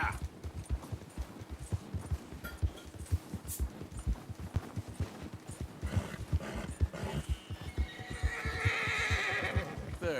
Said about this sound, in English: Oh, I need to feed my friggin' horse.